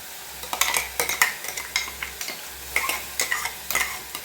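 Ground tomato and onions sauté in a pan for an egg paneer gravy, a spoon scraping and stirring in quick repeated strokes over a light steady sizzle.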